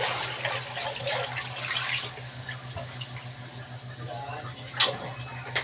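Water runs steadily from a kitchen faucet into the sink during dishwashing, with clatter and a sharp knock near the end over a constant low hum.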